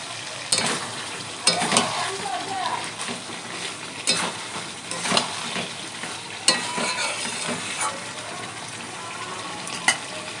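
Broiler chicken meat fried in oil and stirred in a pan, with irregular loud scrapes and clatters of the spoon over a continuous sizzle, close up.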